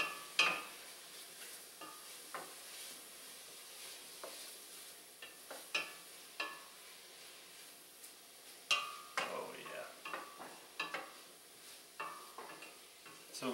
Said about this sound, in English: Get this all kind of mixed around.